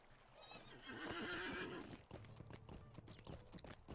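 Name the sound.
horse neighing and hooves in video game Lord of the Rings Online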